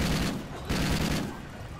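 Rapid, loud gunfire aimed at an alien in a shooter game, two close bursts of shots in quick succession over a busy background.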